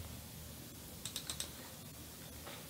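A folder being renamed on a keyboard, a quick run of four close, faint key clicks in the middle, with quiet hiss before and after.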